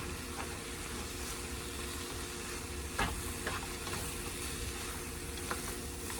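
Food frying in a pan on low heat, a steady close sizzle and hiss with a few brief scrapes and clicks from stirring, no talking.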